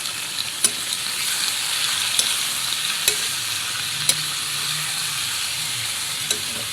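Chicken pieces frying for a chicken curry, a loud continuous sizzle in the pan with occasional sharp scrapes and clinks as the meat is stirred, no voices over it.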